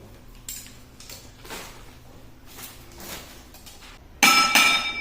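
Stainless steel spoon and fork from a lunch box set clink together in a sharp, bright burst near the end, after quiet handling and faint rustling.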